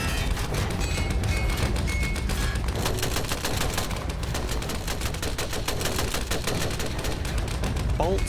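Continuous, dense rattling gunfire from a World War I battle, with German machine guns firing amid the clamour, loud and unbroken throughout, with a voice speaking over it.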